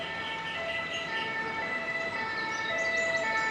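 A Paris SAMU ambulance with a doctor on board sounds its two-tone siren on a Sunday afternoon street, the wailing tones steady and fairly close over constant city traffic noise.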